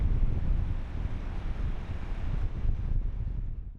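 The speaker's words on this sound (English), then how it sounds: "Windy." Steady wind on a hike along the Great Glen Way buffets the microphone with a low, rumbling roar that persists throughout, easing slightly near the end.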